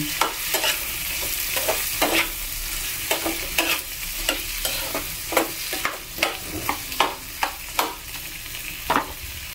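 Garlic shrimp being stirred in a frying pan with butter, a steady sizzle broken by repeated scraping strokes of the utensil, close and fairly loud, with no voices.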